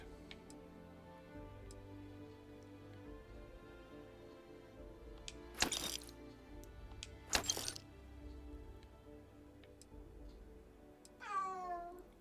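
A cat meows softly once near the end, over a faint steady ticking in a quiet room; a couple of sharp brief noises come earlier.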